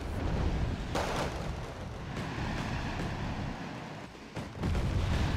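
Bombs from an air strike on an unprotected UAZ vehicle explode in Wargame: Red Dragon, several heavy rumbling blasts at irregular intervals over constant battlefield noise.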